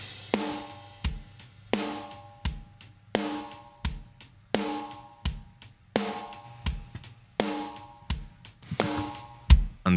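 A processed drum mix on a parallel bus, carrying bass drum, snares and toms with some overheads, repeats a punchy groove of kick and snare hits in a steady rhythm, up close and with nobody speaking.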